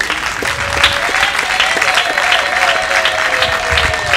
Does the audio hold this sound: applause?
yes